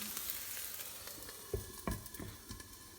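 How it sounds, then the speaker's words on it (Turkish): Gözleme made from ready-made yufka dough sizzles in hot oil, a steady crackling hiss with a few soft bumps and clicks of a spatula, quiet and close. "böyle çevire çevire spatula ile kızartacağız"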